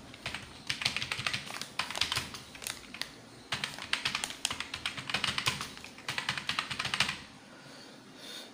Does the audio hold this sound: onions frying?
no